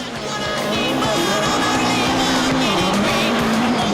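A rally car at the 1999 Boucles de Spa rally drives hard across rain-soaked, muddy terrain, its engine droning loud and steady for the whole stretch with tyre and surface noise mixed in.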